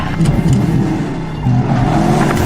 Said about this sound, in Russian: Не газуй так